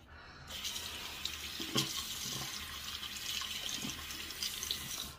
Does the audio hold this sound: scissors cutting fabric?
no